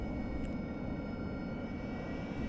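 AV-8B Harrier jet taxiing in the DCS flight simulator, a steady, fairly quiet engine whine and rumble with thin high tones, continuous and unchanging throughout with no talk.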